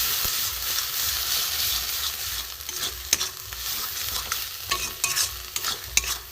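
Cauliflower leaves stirred in a pan to dry them out, a soft continuous sizzle broken by repeated sharp spatula scrapes and taps at an irregular rhythm, close by and without voices.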